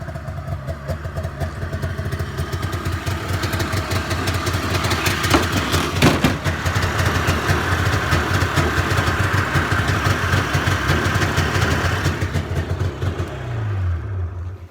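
A snowmobile engine idles close by at around 2,000 RPM with a steady, slightly uneven putter and rattle, then winds down at the end.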